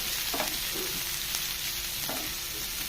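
Browned onions sizzle as they sauté in coconut oil with popped mustard seeds and dried red chillies for a Kerala onion theyal, with a few scraping stirs in the pan under a steady close frying hiss.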